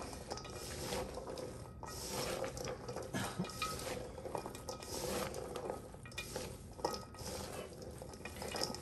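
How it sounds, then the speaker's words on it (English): Pasty filling seasoned with garlic powder is stirred and mixed in a steady, continuous scraping and rustling, close up and fairly quiet, with no voices. "And then we're gonna mix this together."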